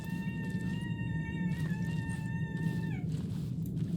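Two people imitate cats with their voices, trading drawn-out, tonal meows that rise and bend, one voice after the other, loud and close over a low background rumble.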